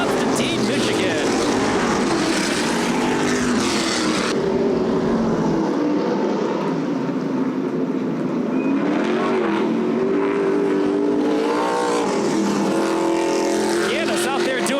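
A street stock race car roars through victory burnouts on a dirt oval after a feature win, engine revving loud and steady for the whole stretch while a track announcer talks over it.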